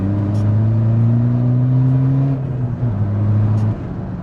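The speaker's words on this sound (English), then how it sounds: "We'll just stick it in third now, doing 30. Just plant my foot and just see the torque." Tuned Skoda Fabia vRS with a 1.9 TDI PD diesel pulling hard in third gear from about 30 mph, a loud, steady rising engine drone heard from inside the car.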